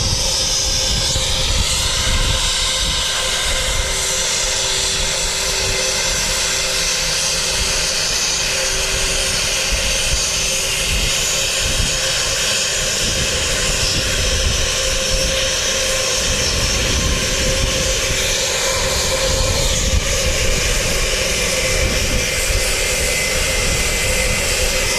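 A jet airliner on the Queenstown flight at Wellington Airport roars loudly and steadily for the whole stretch, with layered engine whine tones over a broad rumble heard up close and nobody speaking.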